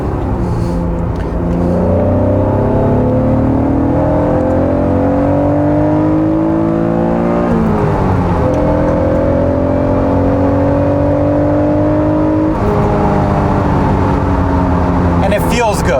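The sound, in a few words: NA1 Acura NSX engine revving hard while driving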